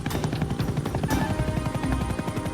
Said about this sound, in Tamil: அவன் பின்னாடி ஹெலிகாப்டர்ல வந்துகிட்டு இருக்கானா.